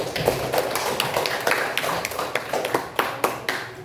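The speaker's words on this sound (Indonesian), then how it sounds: "Oke, tepuk tangan buat kalian." Students in a classroom clap in a quick, uneven patter of sharp slaps, fairly close and moderately loud, fading toward the end.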